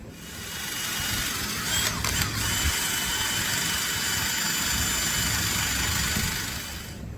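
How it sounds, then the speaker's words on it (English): A wire wheel spun by a drill scrubs silicone off a battery charger, a loud continuous whirring grind that holds steady for several seconds with a couple of brief scraping catches near the start. "a little wire wheel or a wire brush on the end of my drill"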